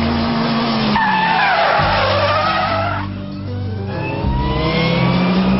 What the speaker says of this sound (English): You must build up your speed before flicking the steering wheel and then pulling on the handbrake